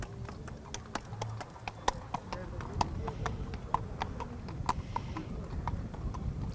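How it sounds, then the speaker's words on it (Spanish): Horses pulling decorated festival carriages at a pilgrimage fair, steady clip-clopping hooves from several animals under continuous crowd chatter and background noise. "hay cientos de caballos y de animales que van tirando de esas carrozas de papelillo"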